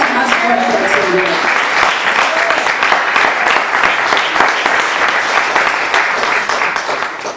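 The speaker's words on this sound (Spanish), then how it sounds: "Dale ese aplauso más fuerte al Señor." Loud, sustained applause from a large crowd at a Sunday church conference, dense clapping filling the whole stretch with cheering voices mixed in, tapering slightly at the end.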